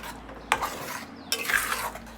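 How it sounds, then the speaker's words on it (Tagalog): A spoon mixes chutney and cumin powder in a bowl, two sharp scraping stirs close by, each trailing off into soft rustling. "And then you just have to mix it all together."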